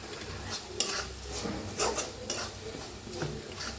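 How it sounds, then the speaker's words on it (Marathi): Homemade masala spice mix roasting in oil in a pan for a bhindi (okra) dish, with a steady soft sizzle and scraping stirs and utensil clinks against the pan at close range, no voices. "आता जी मसाला आपण करून घेतला होता ते तेलात भाजून घ्यायचा आहे।"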